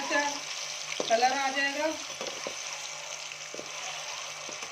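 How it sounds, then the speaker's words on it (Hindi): Eggs frying in a pan for an egg curry, a soft steady sizzle with a few clinks of stirring while someone talks over it. "बस ये हम अंडों को फ्राई करेंगे।"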